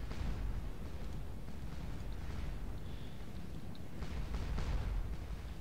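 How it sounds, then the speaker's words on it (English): Distant artillery fire on a Battle of Waterloo video game battlefield, a low rumbling wash with a few dull booms rolling under constant background noise, no talk. "Okay, that is the artillery."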